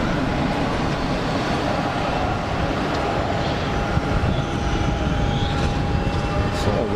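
An inbound EasyJet airliner approaching Geneva Airport produces a steady, broad jet roar that holds at an even level throughout, with no voices over it.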